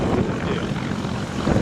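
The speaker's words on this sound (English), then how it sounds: "This plane struck its wing while landing at an air show in Germany" An airplane comes in to land at an air show in Germany, its engine and propeller roar forming a steady, loud, broadband rumble that carries through the whole moment with no voices.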